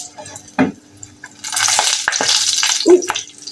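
Water splashes and pours in a home kitchen while cooking dhal puri, with a couple of clinking pot or utensil knocks and a longer running-water burst in the middle.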